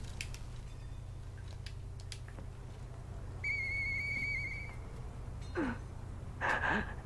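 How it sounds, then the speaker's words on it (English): In the video game Lies of P, a clear, sustained whistle sounds midway, followed later by a shorter whistle, among scattered clicks and soft rustles over a low hum. "I know that whistle."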